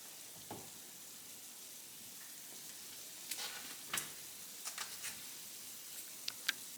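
Carrots fry in a pan for a Romanesco curry, a faint, steady sizzle with scattered sharp ticks and pops growing more frequent toward the end.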